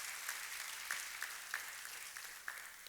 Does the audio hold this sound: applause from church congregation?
yes